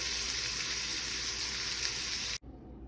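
Shrimp frying in a hot pan give a loud, steady, close sizzle that runs unbroken until it cuts off abruptly near the end.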